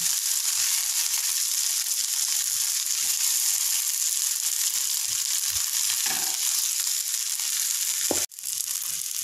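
Crispy coriander fritters (kothimbir vadi) shallow-frying in oil, a dense steady hiss that runs the whole time, with a brief sharp crunch or clatter near the end and a few soft knocks.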